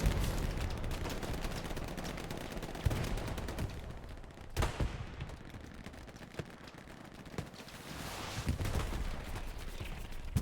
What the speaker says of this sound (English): Some last rocket volleys coming out.